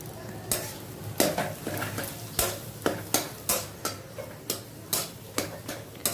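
Samosa filling with salt and turmeric stirred in a pan, a brisk regular run of spoon scrapes and taps against the metal over a constant loud sizzle, close by.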